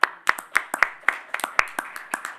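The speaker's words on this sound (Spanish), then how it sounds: "y un aplauso para Salva," A small audience at a medical conference on heart failure claps for a speaker, with sharp, distinct individual hand claps in a loose, fairly quick rhythm over a couple of seconds.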